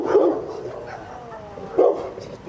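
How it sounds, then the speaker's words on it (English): A dog gives two short barks about a second and a half apart, close by, with a faint whine in between. "She's barking at the door"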